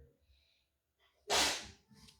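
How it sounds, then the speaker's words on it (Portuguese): A child's single sharp sneeze, loud and close, bursting out suddenly after a near-silent pause with faint breathing around it. "Meu filho acabou de espirrar ali"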